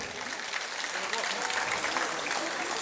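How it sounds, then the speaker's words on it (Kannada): An audience at a Karnataka Sangha cultural gathering breaks into dense, steady applause, a continuous wash of many hands clapping at even loudness from start to finish. "ದೊಡ್ಡ ಚಪ್ಪಾಳೆ ಅವರಿಗೆ."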